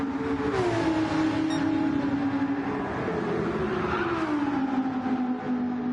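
Race car engines in a racing video game whine steadily at high revs, pitch sliding down and climbing again as a car drifts through a turn, loud and continuous with no voices.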